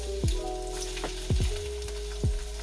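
Garlic sizzles in hot oil in a pan, a steady close crackling hiss punctuated by a few sharp clicks and knocks of stirring, with no one speaking.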